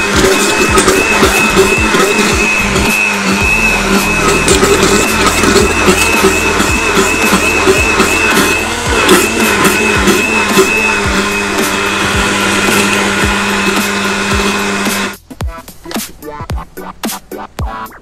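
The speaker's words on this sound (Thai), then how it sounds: "ปั่นค่ะ" A blender whirs loudly and steadily as it purees mango ice cream with two tablespoons of condensed milk, then cuts off near the end, leaving brief clinks and rattles.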